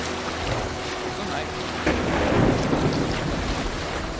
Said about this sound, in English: Even it's raining and all that.